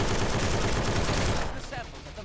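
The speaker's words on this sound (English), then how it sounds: "gunfire isn't affected by the sound settings" Gunfire from the Strike Force Heroes video game rattles as a dense, loud burst of rapid shots that fades off toward the end, leaving a softer tail.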